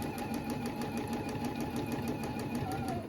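A sewing machine runs steadily while stitching a quilt border, giving a continuous close mechanical whir with a fast regular needle rhythm and no pauses.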